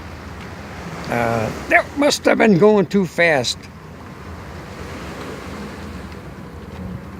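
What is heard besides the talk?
waves from a passing boat's wake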